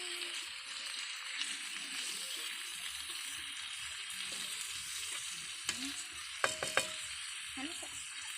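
Tomatoes sizzling and frying in a pan for kinamatisang pork, a steady close sizzle broken by a few sharp stirring clinks.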